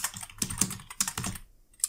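Someone types a Kali Linux terminal command on a computer keyboard, producing close, brisk key taps in an irregular rhythm with a short pause before a final keystroke.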